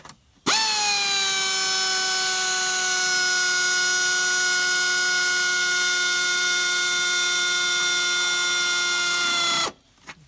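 A pneumatic air tool running on compressed air during repair work on a Ford Fusion ABS module, a loud, steady high whine held for about nine seconds, starting and stopping abruptly, with no talking.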